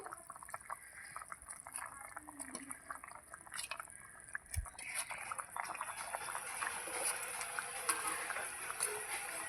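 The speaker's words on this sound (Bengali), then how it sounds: "এই যে ঝোলটা ফুটছে" A thin bhetki fish curry broth with potatoes bubbles in a pot, a soft, steady simmering hiss with light plops and occasional faint voice-like murmurs in the background.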